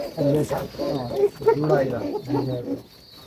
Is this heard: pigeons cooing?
yes